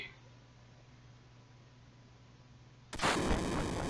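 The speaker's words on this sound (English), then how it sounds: "Whoa, another explosion." A low, quiet rumble drones for a few seconds, then a loud explosion bursts in abruptly and keeps roaring to the end, in Final Fantasy VII.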